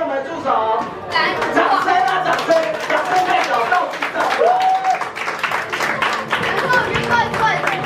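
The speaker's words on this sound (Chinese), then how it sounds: "掌声给我们助手" An audience claps for the assistants at a family interactive event, with a burst of applause mixed with crowd chatter and voices talking over it.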